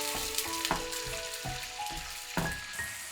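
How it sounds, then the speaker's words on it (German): Sauce poured into a pan of onion rings for a vegan Chinese broccoli dish sizzles and bubbles as it comes to a boil, with scattered clinks and stirring knocks over a steady frying hiss. "Die Soße übergießen und zum Kochen bringen."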